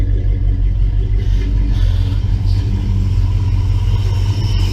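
A 1966 Plymouth Belvedere V8 with FiTech fuel injection idles up close, a loud, steady low rumble with a smooth, even pulse throughout.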